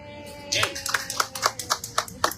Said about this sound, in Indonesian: Tepuk tangan dong, Ren.